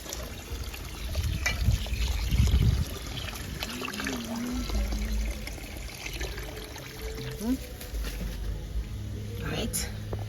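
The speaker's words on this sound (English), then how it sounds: "Wash my hands." Kitchen tap water trickles and splashes steadily while hands are washed during Jamaican rice cooking, with soft low talk and faint clatter over the flow.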